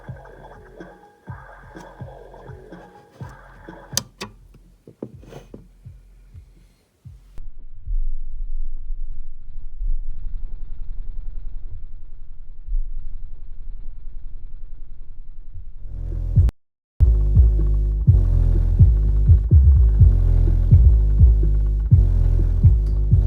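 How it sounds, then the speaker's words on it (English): Subwoofer driven hard by a Dr. Crankenstein amplifier, pounding out loud, deep throbbing bass notes in a steady pulsing rhythm, with a brief dropout before the heavy bass resumes; no one speaks. "Little Cranky's cranking it, making this woofer flex."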